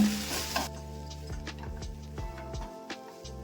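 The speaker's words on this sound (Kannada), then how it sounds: "ಇದನ್ನು ಸ್ವಲ್ಪ ಒಗ್ಗರಣೆಯಲ್ಲಿ ಮಿಕ್ಸ್ ಮಾಡ್ಕೊಂಡ್ಬಿಡೋಣ." Oil sizzles steadily in a pan while a spoon stirs and scrapes, with a few sharp clicks of utensil against metal.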